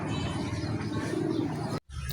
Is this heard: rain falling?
no